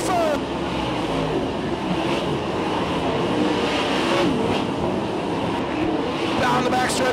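Sprint cars race down the backstretch with a dense, continuous engine roar at a dirt track, and an announcer talks excitedly over them.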